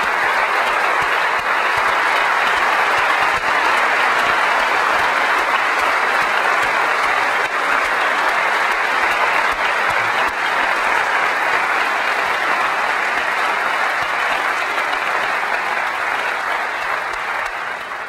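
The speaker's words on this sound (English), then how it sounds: "I'd like you to join me in giving a round of applause to the software team, to the hardware team" Sustained applause from a large keynote audience at Macworld San Francisco 2001, honoring the software and hardware teams; dense, steady clapping fills the hall for the whole stretch without pause, fading only slightly at the end.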